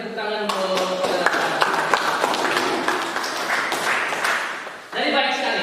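Applause from a classroom audience following a student's exam presentation in a vocational nursing school, a dense steady clatter of many hands lasting several seconds with a voice speaking over it before it fades.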